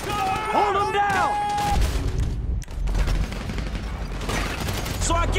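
A gunfight in Grand Theft Auto 5 crackles and booms steadily under a dense wash of game noise, with a voice talking briefly near the start.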